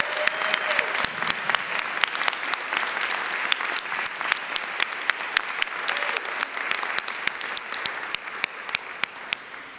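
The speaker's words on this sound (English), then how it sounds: "Please join me in a big round of applause for all the 2019 Distinguished University Professors and their outstanding contributions." An audience at a university faculty and staff convocation gives sustained applause, dense clapping from many hands filling the hall at an even level throughout, with no speech over it.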